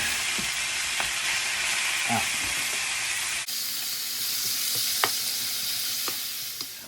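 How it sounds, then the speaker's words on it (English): Beef stroganoff strips sizzle steadily in a frying pan, a dense continuous frying hiss with occasional stirring clicks and scrapes, close and fairly loud throughout. "we're just going to cook all of this up until it's brown"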